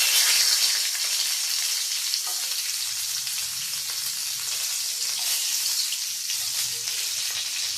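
Bay leaf and whole spices sizzle steadily in hot oil for bhuna khichuri with onion, raisins, cashews and carrot, a constant crackling fry that stays even throughout.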